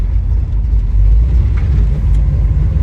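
A 1971 Oldsmobile Cutlass engine rumbles loud and steady just after the throttle is pressed, a deep continuous drone that holds through the whole stretch with no voices.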